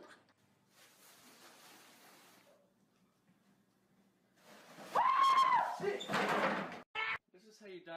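A door opens with a sliding, creaking scrape in the middle of a prank, followed by a loud burst of sound and a sharp knock near the end, with excited voices talking over it.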